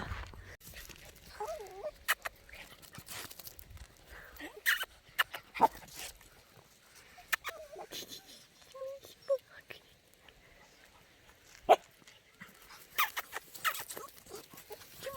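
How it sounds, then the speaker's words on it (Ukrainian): Puppies follow a woman outdoors in frost, giving faint whimpers and soft scrabbling steps while she speaks to them. "Не біжіть за мною, собакіни."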